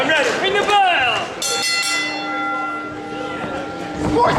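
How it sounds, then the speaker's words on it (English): A wrestling ring bell rings out in a rapid series of bright metallic clangs that linger and ring on, while an announcer's voice is heard just before and just after at an independent wrestling match between Cedric Alexander and Colin Delaney. "Ring the bell!"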